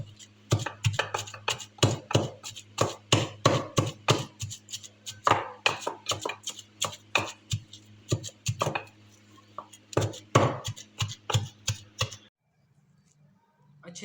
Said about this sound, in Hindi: अब मैं इस मसाले को पीसने जा रहा हूँ।